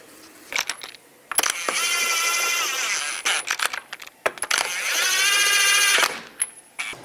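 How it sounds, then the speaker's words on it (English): Lug nuts threaded onto the wheel studs of a 2005–2015 Nissan Xterra during a rear brake job, heard as two sustained, loud whirring metallic runs with clanks and clicks between them, close up and without speech. "Now install the wheel. Put the lug nuts on."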